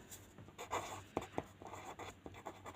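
Pen scratching across paper while working a ninth-grade maths exercise, with short bursts of scribbling and a few sharper strokes, close and fairly quiet.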